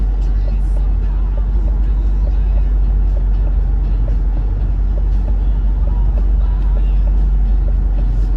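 A Ford Mustang GT convertible with a 10-speed transmission pulling hard along a highway, its engine a constant loud low drone mixed with road and wind roar.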